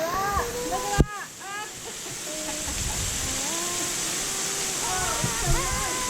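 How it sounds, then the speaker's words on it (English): A waterfall in South Wales roars as a steady broadband rush, heard from close by underneath it, while children and adults chatter excitedly over it. "I am underneath the waterfall."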